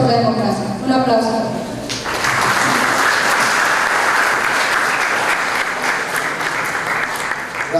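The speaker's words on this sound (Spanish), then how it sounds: "Un aplauso." A voice speaks briefly, then an audience at a university law lecture breaks into loud, sustained applause for a guest lawyer, the dense clapping continuing steadily to the end.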